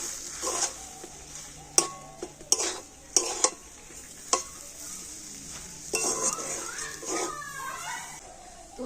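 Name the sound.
mixing roll filling with ground peanuts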